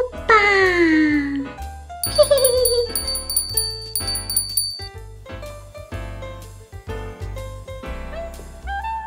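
Bright bells jingle and chime in a lively tinkling run, with sliding notes and shimmering high tones, loud and close with no talking.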